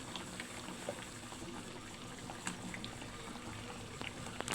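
Pot of squash and sweet potato at a rolling boil, a steady close bubbling and churning with small pops and splashes, no talking.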